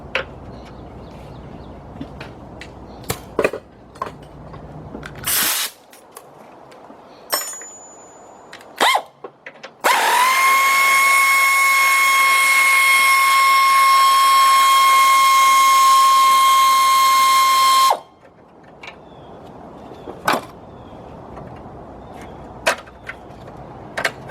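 Power tool with a 10mm deep socket backing out radiator mount bolts on a 1999 Ford Expedition, a steady loud whir of about eight seconds with rising pitch, framed by scattered clanks and tool knocks.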